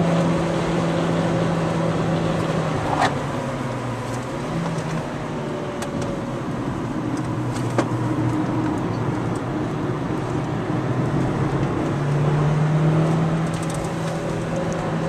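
A car lapping the Hungaroring circuit gives a constant engine drone heard from inside, its pitch rising and falling as it brakes and shifts through corners, with no talking.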